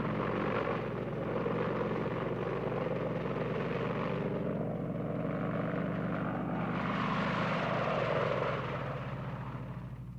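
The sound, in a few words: Apache attack helicopters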